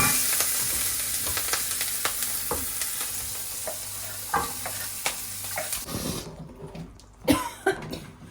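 Tempering for paneer chilli spatters and sizzles in a hot pan as a loud, steady hiss with crackling pops. It cuts off abruptly near the end, followed by a few nearby coughs.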